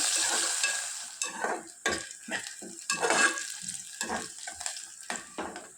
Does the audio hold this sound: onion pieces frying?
yes